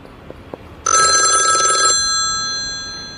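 A single burst of telephone ringing, a bright electronic trill lasting about a second, close and loud, then fading resonance; no talking.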